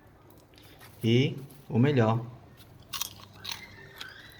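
Someone bites and chews crunchy, oil-free microwave popcorn, with two loud close crunching bites and then softer chewing, while a person talks.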